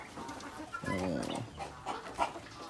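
Short-legged bantam chickens on a farm give soft clucks and a brief warbling call close by, with low farmyard noise around them and no talking.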